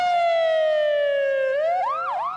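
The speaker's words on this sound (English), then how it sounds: "Streams of ambulances came to carry away the dead and the injured." A loud, close ambulance siren wails in a falling tone, then switches into a rising and falling yelp pattern.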